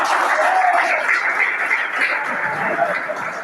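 Sustained applause from a church audience at a Bible conference, a dense steady patter that fills the space and fades slightly toward the end.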